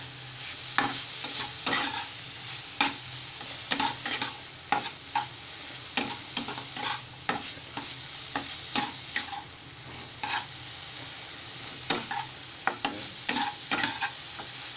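A Malvani filling of fresh coconut, jaggery, turmeric and cardamom powder is stirred in a kadhai, with steady, repeated scraping strokes of the spoon against the pan and no talking.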